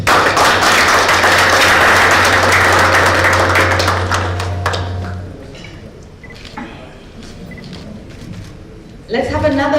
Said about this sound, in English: Let's have another big round of applause for the work that has been done